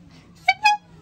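Two short, bright horn honks in quick succession, the second slightly longer, sounding close with faint background noise.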